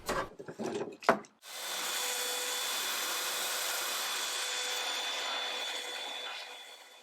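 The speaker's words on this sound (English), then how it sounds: "I guess it's finally time to do some sanding." A few knocks and taps, then a belt sander runs on wood, a loud, even abrasive whir that continues steadily to the end.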